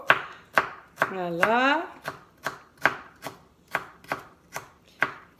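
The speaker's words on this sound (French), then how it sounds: "je préfère faire des petits cubes au ciseau, au couteau" Knife chopping ingredients into small cubes for coleslaw on a cutting board, about eleven crisp, evenly spaced chops, with a short spoken word over the middle.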